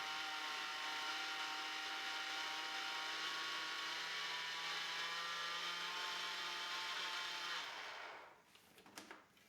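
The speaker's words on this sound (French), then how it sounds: "Et je vais venir donc mixer le tout." An electric mixer blends mug cake batter with cocoa in a steady, close whirring drone that runs for several seconds, then winds down into a few short clicks and knocks.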